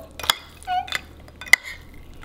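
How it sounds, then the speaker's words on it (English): Thai rice noodles with lime are tossed and mixed in a bowl, with a few sharp clinks and scrapes of utensil against dish and soft rustling between them, close by and fairly quiet. "I'm going to give them a good mix."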